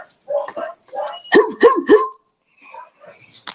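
Three quick, loud dog barks close by, with some talking just before and faint voices afterward.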